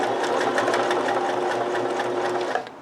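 A sewing machine runs at a steady fast rhythm, loud and close, its rapid needle stroke continuing until it slows and stops just before the end.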